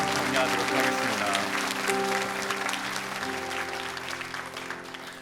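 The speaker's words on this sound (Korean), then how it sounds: "큰 박수로 우리 사연팀 정리하도록 하겠습니다." Applause from a church congregation at a Korean Sunday worship service, spreading under sustained organ or keyboard chords, then gradually fading.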